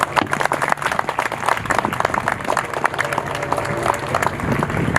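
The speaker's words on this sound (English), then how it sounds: "please give yourselves a round of applause because this is a wonderful turnout" An outdoor crowd at a park dedication claps in a loud, sustained burst of dense, uneven applause heard up close from start to finish.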